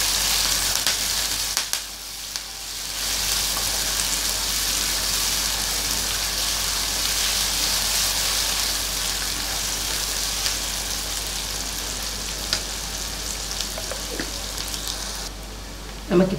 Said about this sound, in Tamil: நமக்கு இப்போ வெங்காயம் நல்லா வதங்கிடுச்சு